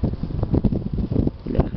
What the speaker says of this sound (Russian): Бляха, ветер дует